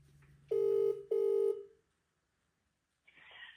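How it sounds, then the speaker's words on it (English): Phone call ringback tone: two loud, even electronic rings in quick succession heard through the handset, then silence before the line picks up with a faint voice. "And I'm about to call that number again."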